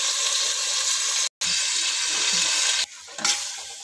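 Finely chopped eggplant and boiled black chickpeas frying in a pan, a close, steady broadband sizzle that cuts out briefly twice.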